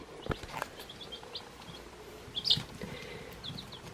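Week-old hatchling chicks in an indoor brooder give a few faint, scattered high peeps, with one brighter chirp midway over a quiet, low room background.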